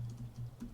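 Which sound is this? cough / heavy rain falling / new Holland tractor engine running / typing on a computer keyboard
typing on a computer keyboard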